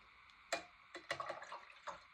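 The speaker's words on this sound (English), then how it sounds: "Give my brush a good clean." A paint brush with acrylic paint is swished and tapped in a jar of water, a few soft sloshes and clinks at irregular intervals, quiet and close.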